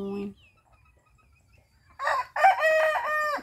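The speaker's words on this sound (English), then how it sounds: "Wait, right, roosters?" Roosters crow in a rural village setting: after a brief low sound and a quiet pause, loud harmonic cock-a-doodle-doo calls ring out close by, one overlapping another for the final second and a half.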